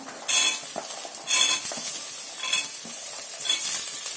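Green peas fry in hot oil in a pan for a pea and cauliflower curry, giving a continuous sizzle broken by several regular scraping stirs of a spatula, heard close.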